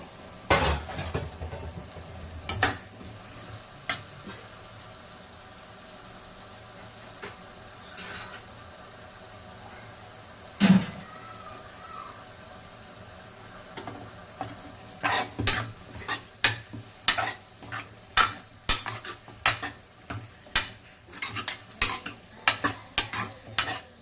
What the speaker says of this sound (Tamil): உருளைக்கிழங்கு கொஞ்சம் வதக்கியாச்சு